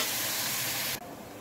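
Boneless chicken cubes frying in oil with garlic make a loud, even hiss close to the mic that cuts off abruptly after about a second.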